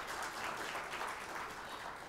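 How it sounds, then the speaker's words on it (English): Audience at a book launch event applauds in a steady, dense wash of clapping that holds evenly for a couple of seconds. "So will you join me in applauding?"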